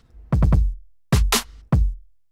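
A short drum pattern with a quick cluster of kick hits, crisp snare cracks and softer ghost snare taps in between, loud and up front.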